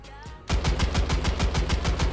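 Rapid bursts of automatic gunfire in the game Standoff 2 ring out in a steady, fast rhythm after a brief quiet start, loud and close.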